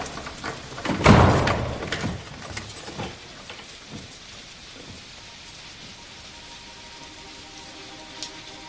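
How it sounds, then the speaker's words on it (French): A thunderstorm over the sea brings a loud, close thunderclap followed by rumbling. Steady heavy rain pours throughout as the thunder fades. "L'orage va s'éloigner sur la mer"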